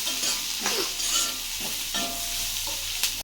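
Bitter gourd and onion sautéing in a pan, with steady loud sizzling and a few stirring scrapes, close and continuous without talk.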